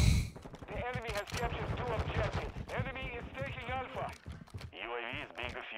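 Rapid carbine gunfire from Modern Warfare 2, bursts of close shots under someone talking throughout.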